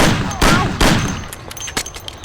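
Gunfire in the video game Mafia: a few loud, sharp shots crack close by, followed by fainter scattered pops trailing off over about two seconds.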